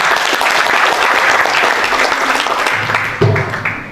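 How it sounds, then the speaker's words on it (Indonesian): An audience claps steadily for the university rector at the opening of a student career bootcamp and essay competition, a dense, sustained wash of applause from a full hall that carries on for the whole stretch. "Kita beri aplaus untuk Pak Rektor."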